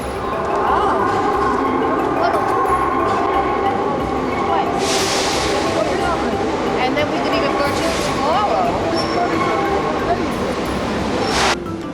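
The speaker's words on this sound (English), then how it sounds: "this is our adventure on the Madrid metro" A Madrid metro train rumbles and rattles steadily, with brief hissing bursts, while people talk loudly over the noise.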